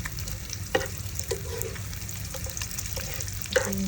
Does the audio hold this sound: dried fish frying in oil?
yes